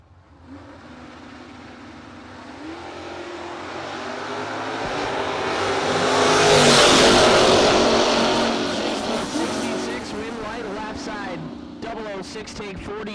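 A third-gen Camaro drag race car at a no-box drag event builds from a rumbling idle to a loud rising launch roar that peaks mid-pass and fades away, with a voice talking over the noise throughout.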